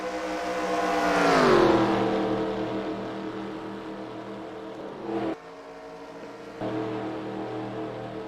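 A pack of race cars roars past in the eNASCAR Heat video game at Daytona, a loud rising-then-falling engine whine as they sweep by, followed by steady droning engines with a brief drop-out.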